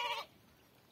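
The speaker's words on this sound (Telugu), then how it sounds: "గొర్రెలు అంటే చూడండి ఎలా పోతున్నాయి గొర్రెలు" A single short sheep bleat, faint and quickly fading, from a flock moving along with a shepherd.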